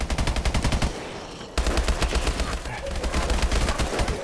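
Rapid automatic machine gun fire in the video game Call of Duty: Advanced Warfare, Exo-Zombie mode: two loud, dense bursts of evenly spaced shots, split by a short pause.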